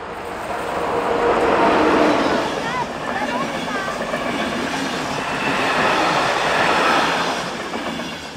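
A Praha–Klatovy passenger train passes the trackside at Zadní Třebaň, Czech Republic: a close, loud wheel rumble with rhythmic clickety-clack swells and fades across several seconds while voices are heard.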